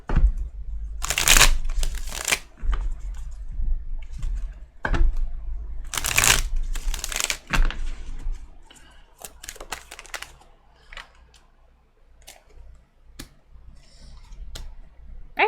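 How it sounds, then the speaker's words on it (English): A tarot card deck shuffled by hand, giving sharp bursts of riffling and snapping card noise, several loud flurries at first and then softer scattered taps. "I saw that when I split the deck to shuffle."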